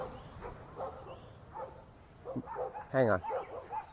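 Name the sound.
dogs barking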